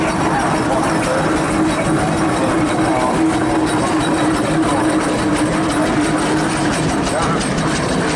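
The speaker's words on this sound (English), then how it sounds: "So Tipper tractors in the ring" Tipper tractors parade around the ring at the Prestwood steam traction engine rally, giving a steady low engine rumble and idling drone throughout, with an announcer talking over it.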